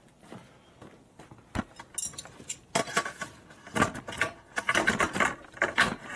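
Loose metal wrenches clink and jangle against each other during a rummage in a toolbox beside a 1965 Harley panhead, giving scattered light rattles that build into busier clattering.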